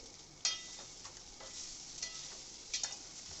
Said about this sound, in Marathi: मिक्स करून छान परतून घ्यायचं राईस करताना सगळं फुल गॅसवर करायचं आहे